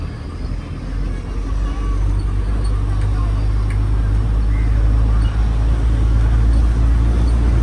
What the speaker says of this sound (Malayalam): വൈകുന്നേരം ആകുന്തോറുമാണ് വണ്ടികൾ കൂടുതലായിട്ട് വരുന്നത്